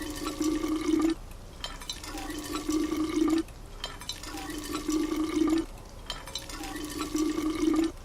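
Water pours into a bottle in the video game We Happy Few, as a steady liquid fill that repeats four times in rhythmic cycles, each followed by a short pause, heard close with no talk.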